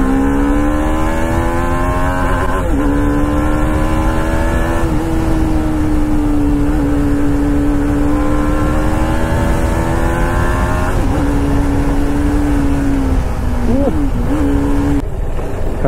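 An RR 310 motorcycle ridden at speed gives a loud, steady engine drone that holds its pitch, dipping briefly a few times, with wind rush throughout.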